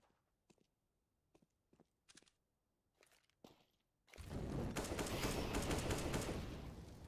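Gunfire in a Counter-Strike: Global Offensive match, an AWP in play, beginning with scattered quiet footsteps and clicks, then a sudden loud, sustained burst of rapid shots that fills the rest of the moment.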